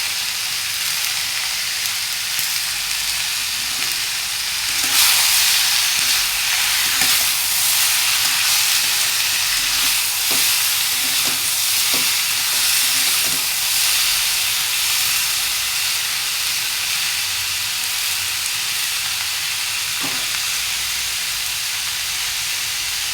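Ivy gourd (kundru) fries in a pan after salt is added, giving a steady, close, broadband hiss and sizzle. Occasional light clicks and scrapes from stirring break through it, with no talking.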